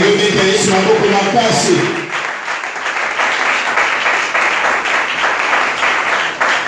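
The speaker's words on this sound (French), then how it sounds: "J'aimerais que tu acclames très très fort" A church congregation bursts into loud, sustained applause and cheering that fills the room, starting with a surge of voices and continuing as dense, steady clapping throughout.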